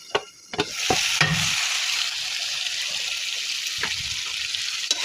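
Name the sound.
stirring rui fish curry frying in a pan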